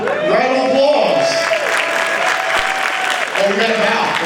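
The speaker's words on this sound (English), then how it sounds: "Round of applause." Applause after a winter band concert performance, a continuous loud wash of clapping from the audience with voices and cheering mixed through it.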